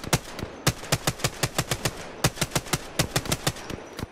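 Rapid bursts of gunfire in a video game shootout, loud, close, sharp shots fired in quick irregular clusters for several seconds with brief pauses between, no voices over them.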